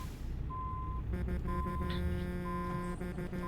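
A truck's reversing alarm in American Truck Simulator sounds as a steady series of evenly spaced electronic beeps over a low engine hum, moderately quiet and without talk.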